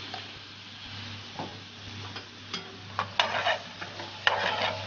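Calamari tossed in a pan with pesto, garlic and chili, a soft sizzle under intermittent scraping and stirring clatters that grow busier toward the end, close by, no speech.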